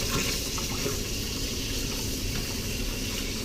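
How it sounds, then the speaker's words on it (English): Running tap water rinses a citrus juicer in a kitchen sink, a steady close hiss and splash that continues without a break and with no talk. "let's rinse this off"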